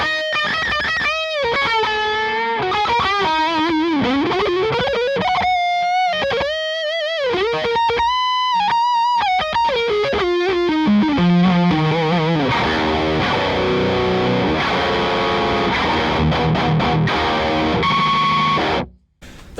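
Distorted electric guitar with a stock bridge pickup and a Seymour Duncan JB in the neck, played through effects with fat, sustained riffs and bends, then a denser chugging section, loud throughout.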